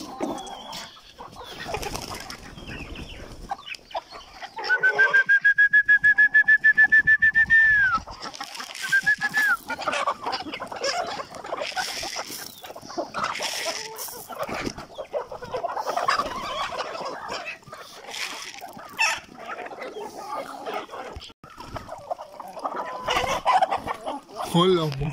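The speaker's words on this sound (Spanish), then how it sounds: "Hoy vamos a dar de comer las gallinas." Chickens and other farm fowl being fed corn, with clucking and a sustained gobbling call, birds close by amid shuffling noise and occasional talk.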